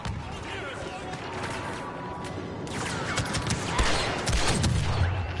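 Rapid bursts of blaster fire and explosions in the video game Star Wars Battlefront, dense and continuous with a louder crash near the end, under a player's talking.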